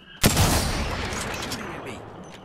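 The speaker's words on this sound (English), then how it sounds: "I've been shot at from the rooftop" Gunfire in the Apex Legends video game, fired from a rooftop: a sudden loud burst of shots followed by a long rumbling, echoing tail, with players talking.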